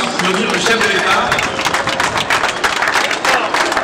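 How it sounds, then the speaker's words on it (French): An outdoor crowd applauds the head of state at his arrival in Kasumbalesa, a steady, loud wash of clapping mixed with crowd noise that lasts throughout. "je voudrais qu'on puisse applaudir le chef de l'État"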